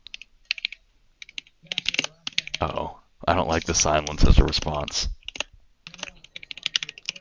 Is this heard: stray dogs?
no